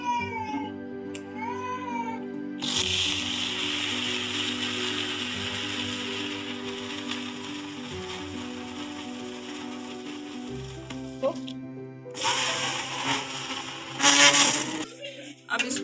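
An electric blender grinds khoya and sugar for homemade kulfi, whirring steadily and loudly up close, then stopping and restarting in short, uneven bursts near the end.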